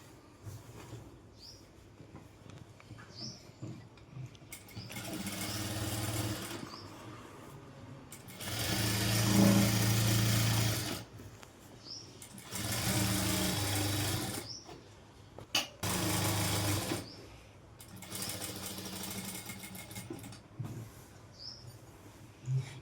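Bursts of a sewing machine stitching the edge of a Punjabi dress top run in several loud spells of a few seconds each, separated by quieter pauses with faint background noise.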